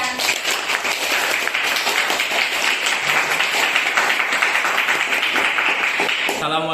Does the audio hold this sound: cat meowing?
no